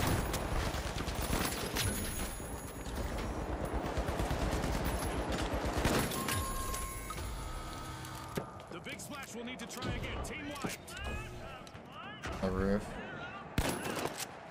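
Gunfire in the video game The Finals: rapid, dense bursts of shots and mechanical clatter, loud and close, with voices talking over the action.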